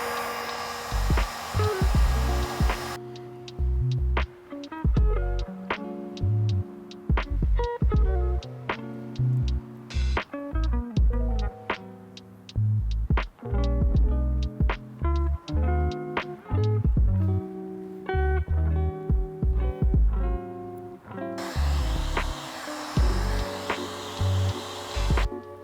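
A heat gun warms paint protection film on a Tesla Model Y hood, its airy blowing hiss heard for a few seconds at the start and again near the end, with a long stretch of other sound between.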